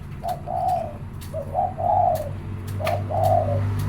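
Dove cooing close by in three separate phrases, each a short note followed by a longer rolling coo, over a low steady background hum.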